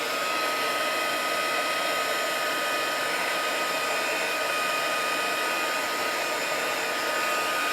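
A heat tool blows a constant, loud, even whoosh as it dries embossing glaze, running without a break for several seconds and with no voices.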